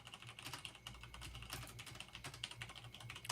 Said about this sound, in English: Wow, that was like furious typing.